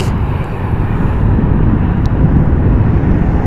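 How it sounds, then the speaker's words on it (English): Private plane landing at Las Vegas Harry Reid International Airport, a steady loud engine roar with broadband wind-like rumble, heard alone. "Got that private plane coming in, looking pretty sleek."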